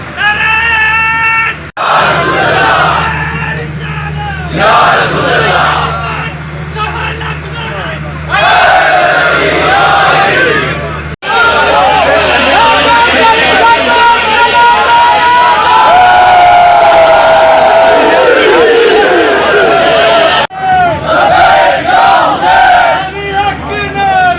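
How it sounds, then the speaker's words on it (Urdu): A large crowd at a memorial gathering in Sialkot shouts religious slogans in loud call-and-response bursts, massed voices roaring together in several surges separated by brief pauses. "کوئی نعرے ذرا لگا کے دکھائے، تکبیر، رسالت اور حیدری نعرہ"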